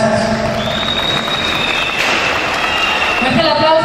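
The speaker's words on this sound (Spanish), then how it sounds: "Fuerte el aplauso para el señor alcalde" A crowd at an outdoor town pageant, the election and crowning of a local queen, applauds and cheers for the mayor in a dense, sustained wash of clapping and voices, with sustained tones running through it.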